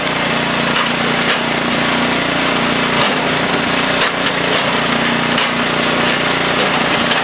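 A Maggio and Sons flywheel wood splitter runs with a steady, loud engine drone throughout, close by, with no breaks or voices.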